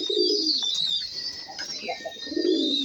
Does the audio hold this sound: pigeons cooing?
yes